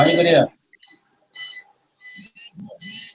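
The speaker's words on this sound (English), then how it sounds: "a beeping sound in the background." Faint, high electronic beeps recur intermittently in the background, spaced irregularly, with a voice speaking at the start.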